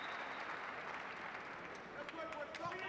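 Steady crowd applause fills a football ground as youth players take the knee before kick-off at an FA Youth Cup match at the Valley, a continuous broad wash of clapping with some voices mixed in.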